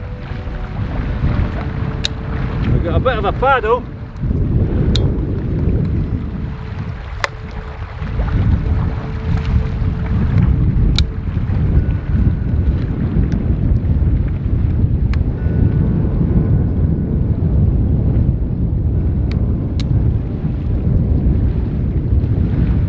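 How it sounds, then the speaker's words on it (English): Strong, blustery wind buffets the microphone outdoors near water. It makes a loud, continuous low roar with rumbling gusts, and someone speaks briefly near the start. "It's pretty blustery."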